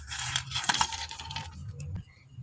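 Fried lentil dumplings set down on a stone grinding slab, a quick series of small hard clicks and clatters in the first second, then a sharp tap near the end, close and fairly quiet.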